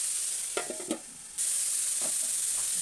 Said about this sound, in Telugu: ఇది మంచిగా ఫ్రై చేసుకోండి